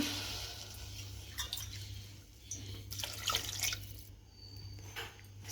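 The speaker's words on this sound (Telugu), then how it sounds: "నేను నాలుగు కప్స్ వాటర్ తీసుకుంటున్నా" Water pouring and splashing into a pressure cooker pot with rice in uneven bursts, close and fairly quiet, over a low steady hum.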